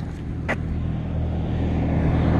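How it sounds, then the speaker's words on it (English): Cars going by on a road beside a mowed lawn, a continuous low rumble that slowly swells louder toward the end, with a short sharp sound early on. "cars going by"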